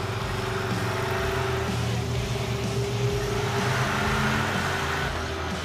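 A 1950 Ford F6 dump truck engine runs steadily and loudly from inside the cab, a continuous low drone with a faint rise in pitch as the old truck pulls away in first gear.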